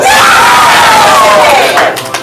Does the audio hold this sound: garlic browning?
no